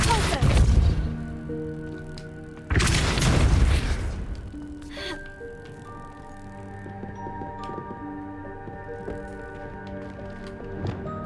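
Two loud whooshing blasts from the Depulso spell in Hogwarts Legacy, each a broad burst about a second long, followed by ringing tonal game audio that fades over several seconds.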